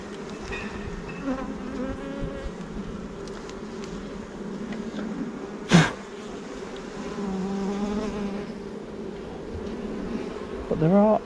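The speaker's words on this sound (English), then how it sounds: "But there are a lot of bees" Honeybees in an open Flow Hive during an inspection produce a loud, steady buzzing drone throughout, with a brief sharp knock about midway and handling noises near the end.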